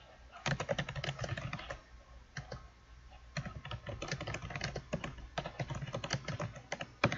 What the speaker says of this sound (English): Then I need to type a description.